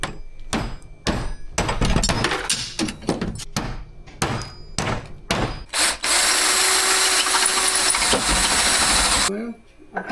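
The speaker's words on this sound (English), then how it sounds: "we're going to have to drill these babies out" A power drill bores out the door hinges of a Humvee, coming in short bursts amid clanks and knocks, then a sustained loud whirring run; speech is heard between bursts.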